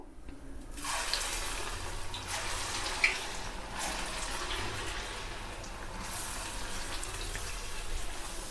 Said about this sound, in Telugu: నూనె బాగా వేడైంది గారెలు వేసుకుందాము